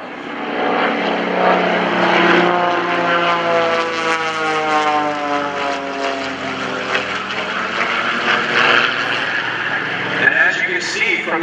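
Propeller aerobatic airplanes, including a two-place airplane with single-place wings, drone past overhead at an airshow, their engine pitch sweeping and shifting loudly as they fly by, with a voice speaking over the noise.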